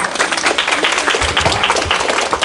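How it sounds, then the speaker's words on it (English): An audience applauds presenters at the close of a morning session, a dense, fairly loud wash of many clapping hands with no voices over it. "Let's give them a round of applause."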